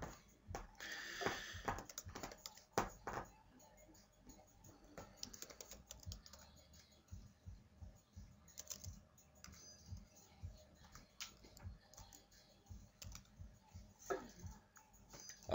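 Someone types on a computer keyboard in Windows Vista, producing irregular, close keystroke clicks and taps that come in bursts over a quiet background, with occasional pauses.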